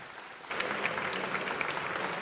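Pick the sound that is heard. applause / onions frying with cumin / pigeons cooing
applause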